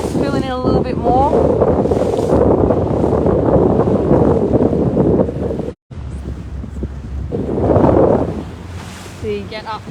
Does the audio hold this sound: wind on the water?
yes